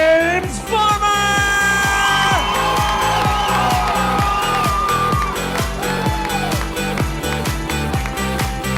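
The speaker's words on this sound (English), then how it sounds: "Big round of applause for that beautiful bride, Amy, and that handsome groom, Jim." Wedding guests cheer, whoop and applaud a newly married couple over loud, beat-driven music, the crowd's voices rising and trailing off beneath the steady pulse.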